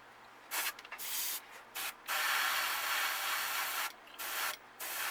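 Soft hissing bursts of an airbrush lightly spraying paint onto a bluegill-patterned crankbait fishing lure, several short puffs followed by one longer steady spray and more brief bursts, close and quiet with no talking.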